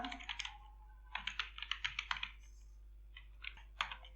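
Typing on a computer keyboard while entering an email address into an Excel dialog, with bursts of quick, close key clicks separated by short pauses.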